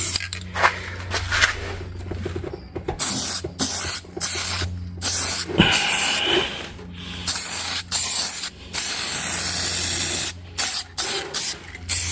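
Spray paint hissing in repeated bursts of varying length onto a Jeep Grand Cherokee's rear subframe, coating it black; loud and close, with brief pauses between passes and no talking.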